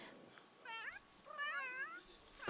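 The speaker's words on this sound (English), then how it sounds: "Just listen to these cats." Cats meowing in The Sims 3 life-simulation game: two clear, drawn-out meows close together, the second longer and wavering, over a soft background hum with no talking.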